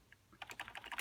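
Soft, quick keystrokes on a computer keyboard, a short run of close clicks after a brief quiet start.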